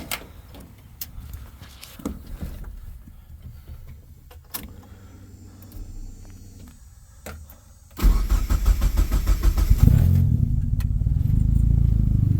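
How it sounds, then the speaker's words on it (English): A Cummins diesel truck with a large 4.5-inch exhaust outlet sits quietly with faint clicks, then cranks over and fires up, settling into a loud, steady, rumbling idle. "I'll start it just so you guys can hear it at idle"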